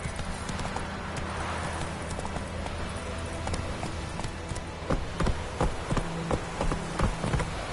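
A horse galloping in The Witcher 3, rhythmic hoofbeats that grow louder and faster toward the end, over a soft ambient background.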